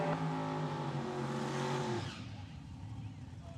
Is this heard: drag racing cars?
yes